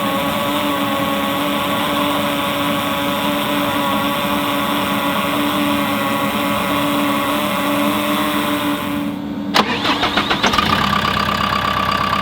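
A JCB machine's engine running at a steady idle and drone, then a sudden sharp transition to a crank and restart that settles into a rougher, pulsing idle, loud and close.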